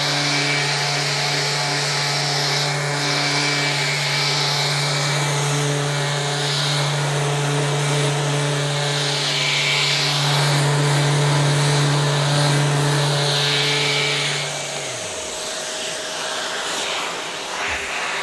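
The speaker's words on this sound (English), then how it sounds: "This is a cordless sander." A cordless sander with a dust extractor bag fitted runs with a steady, close motor whine and airy hiss, then winds down and stops near the end.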